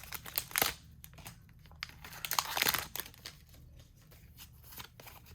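A Pokémon TCG booster pack is torn open by hand, with crinkly foil rips and crackles in two louder bursts, then quieter rustling and handling of the wrapper close up.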